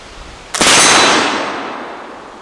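A single loud, sharp gunshot from a coned-barrel flintlock rifle cracks out after a moment of quiet, then rolls away in a long, slowly fading echo.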